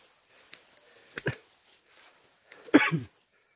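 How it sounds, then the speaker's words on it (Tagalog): A few short coughs nearby, one small burst and then a harsher double cough, over a faint steady background hiss. "May ubo."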